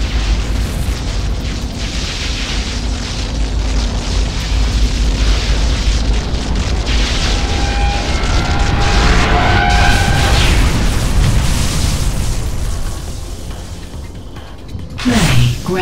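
A core-destroyed explosion in Unreal Tournament 3 Warfare on the Downtown Necris map, a sustained loud booming roar with bursts and whooshes lasting many seconds, ending in a final sharp burst, with game effects throughout.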